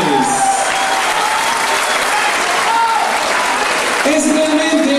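A crowd at a Mexican contest applauds the two contenders with loud, sustained clapping, and brief tones and voices cut through the dense patter of hands.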